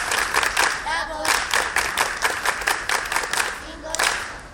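A group of school kids in Mombasa County clap their hands in quick rhythmic bursts, loud and close, with voices mixed in among the clapping.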